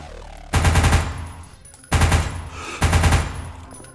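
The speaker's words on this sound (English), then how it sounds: "So we have a lot of machine guns here." Three loud, close bursts of rapid machine gun fire at a shooting range, each lasting about a second with short pauses between them.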